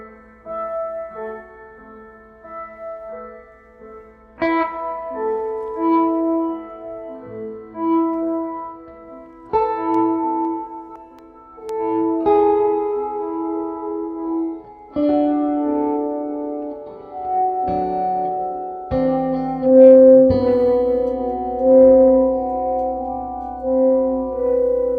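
A Hotone Verbera delay and reverb pedal processing an electric guitar, sustained chords and melodic notes blooming into long echoing tails and swelling ambient washes, loud and continuous with no talking.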